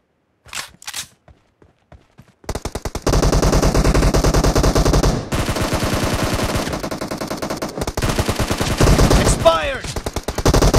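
Loud, sustained machine gun bursts ring out in a video game firefight, with brief isolated shots at first, then long rapid strings of fire broken by short gaps.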